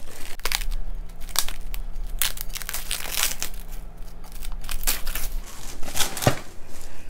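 Covered bread dough for fluffy dinner rolls being unwrapped after rising, as plastic wrap crinkles and crumples in a steady run of close, loud rustles over a low background hum.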